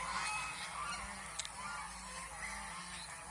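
Recorded calls of goslings play back faintly over a steady background hiss, forming a continuous soft honking chatter with one brief sharper note.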